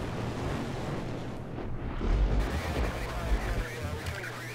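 Naval gunfire in the Victory At Sea Pacific naval combat game, heavy low booms rolling through a dense roar of battle, with a stronger burst of blasts near the middle and a voice talking over it.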